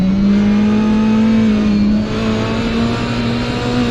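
A Lamborghini Huracan GT3 race car accelerates at Donington Park during a Caribbean GT3 Championship round, its engine holding a loud, steady, close drone with a slight dip partway through.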